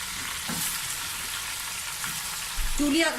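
Chicken pieces hitting ginger garlic paste in a pan on high heat give a steady close sizzle, with a louder burst of frying near the end as they go in.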